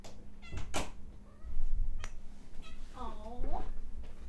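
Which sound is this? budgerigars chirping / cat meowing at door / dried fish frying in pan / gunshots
cat meowing at door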